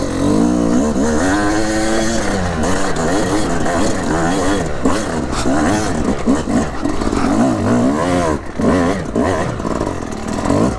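A two-stroke hard enduro motorcycle engine wails loudly and continuously while being ridden, its pitch climbing and dropping as the throttle changes, close and dominant throughout.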